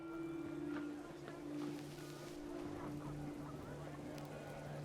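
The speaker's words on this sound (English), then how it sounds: "The wind picked up and panicked geese appeared and quickly went." Panicked geese honk faintly in a windy scene from the video game What Remains of Edith Finch, with scattered short honks over a steady low drone.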